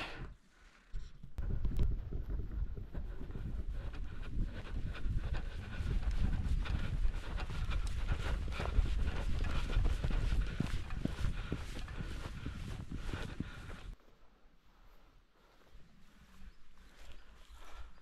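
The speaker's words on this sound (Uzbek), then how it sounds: "Bu tomonda esa otlar." Horses walking, their hooves clip-clopping in a loose irregular rhythm over a steady outdoor rumble, then the sound thins out near the end.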